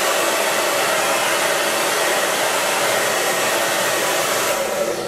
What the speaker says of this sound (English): So what I like to do is I like to grab a piece of hair and a hair dryer.